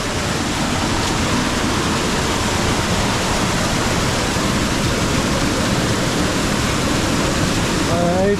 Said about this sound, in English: The falls in the back, you can see, absolutely gushing.